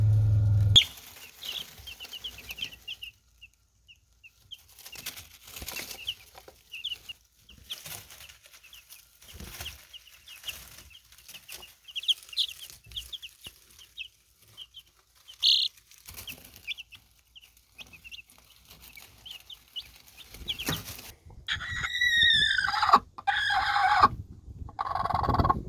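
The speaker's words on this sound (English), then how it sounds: "our hens have been doing really good, and they're very happy to be out here" Egg-laying hens out on spring pasture at a first-year homestead, quiet scattered clucks and rustling over long near-silent stretches, building to louder squawking and cackling calls near the end.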